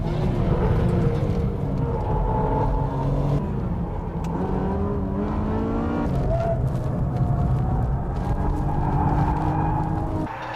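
Racing cars, a Nissan Nismo and a Porsche 996 Turbo, on the final lap, loud engines revving and roaring through gear changes with pitch sweeping up and down as the cars pass close by.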